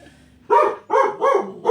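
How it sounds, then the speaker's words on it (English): A dog barks four times in quick succession, loud and close, each bark sharp and evenly spaced after a brief quiet lead-in. "Bark it up, buddy. Bark it up."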